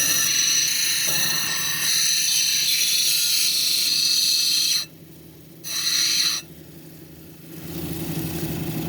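Petrified wood cabochon pressed against an 80 grit grinding wheel, a loud continuous abrasive grind with a steady motor whine, briefly easing off as the stone is lifted and then reapplied.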